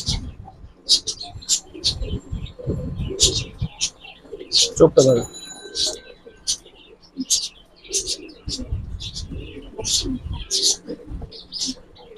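Giribaz pigeons coo in low bursts among repeated sharp chirps, while someone talks over them close by.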